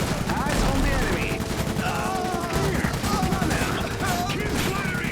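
Steady machine gun and rifle fire on a battlefield in Iron Harvest, a continuous crackle of overlapping bursts with muffled booms, with voices shouting over the combat.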